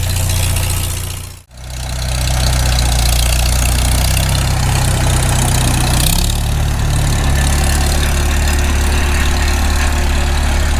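An engine idling after a cold start using the choke, loud and close, with a deep steady rumble and one brief drop near the beginning before it settles back into a constant idle.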